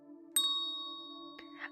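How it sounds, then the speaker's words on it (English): A priest's hand bell rings at night, two clear dings about a second apart over a faint sustained tonal hum. "Even thought he announced his arrival by ringing a bell."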